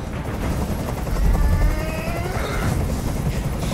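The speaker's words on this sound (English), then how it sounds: "I can't stand that noise anymore. Tell that helicopter to get out of here." A helicopter hovers overhead in the video game Detroit Become Human, its rotors making a loud, steady, low rumbling drone that fills the scene without a break.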